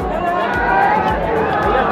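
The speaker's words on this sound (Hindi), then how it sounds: "इधर पूरा देख सकते हैं पूरा बहुत ही ज़्यादा भीड़ है।" A large crowd of devotees mills about at the Ram Raj temple in Dhanbad, making a dense, loud babble of overlapping voices close around.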